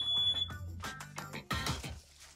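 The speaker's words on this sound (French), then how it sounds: "Les alarmes à incendie n'arrêtent pas de sonner." Smoke and fire alarms going off inside a house, sharp repeating electronic beeps in quick irregular bursts, loud and close, overlapping one another with clattering activity between them.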